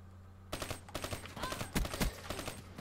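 Rapid automatic gunfire in Call of Duty Black Ops 3, bursts of fast close shots starting abruptly and continuing with brief gaps, loud against quiet game ambience.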